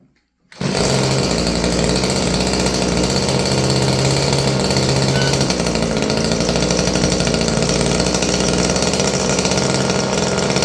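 A thirty-year-old Stihl FS56 curved-shaft two-stroke string trimmer fires after a brief silence and runs at a steady, loud, buzzing drone to the end.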